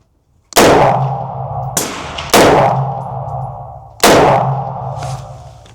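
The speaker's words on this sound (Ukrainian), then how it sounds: "Перші три постріли мішень на 50 метрів" Three sharp, loud air rifle shots crack close by at a 50-metre target, each followed by a ringing metallic decay, spaced a second or two apart.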